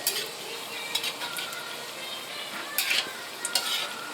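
Dried red chillies sizzling in oil as a tempering for mustard greens, a soft, continuous crackle broken by a few sharp stirring scrapes against the pan.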